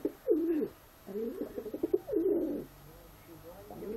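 Pet pigeon named Giò coos indoors in soft, rolling bursts, a few close, moderate calls separated by short pauses, with a quiet background and no speech.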